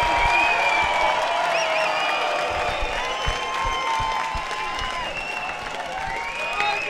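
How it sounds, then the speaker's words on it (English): Dense applause and cheering from a club-night crowd at a Passion event fill the space, a steady wash of clapping blended with music tones throughout. "give yourselves a round of applause for being the best crowd in the country!"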